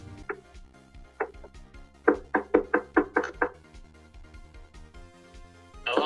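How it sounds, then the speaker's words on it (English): Someone knocks on a door, first with a few scattered raps and then a quick run of about seven firm knocks, heard alone over a low background. "Is someone knocking at the door?"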